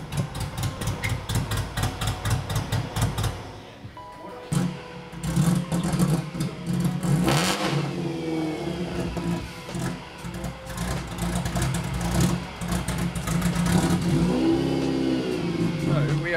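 Cammed B18 engine in an EG Honda Civic idling with a choppy, lumpy rhythm, then revving up in several strong pulls, close and loud with people talking over it.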